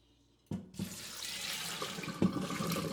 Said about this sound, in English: Just drain the water like that in there.